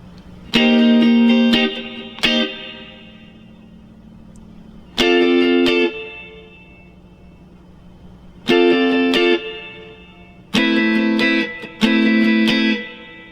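Choppy jazzy funk guitar strumming in short rhythmic bursts, with a bright, effected tone, separated by pauses where the chords ring and fade.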